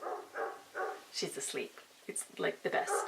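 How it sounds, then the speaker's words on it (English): Neighbor's dog barking in short bursts nearby while someone talks over it, the yips and barks interleaved with her speech. "That's my neighbor's dog."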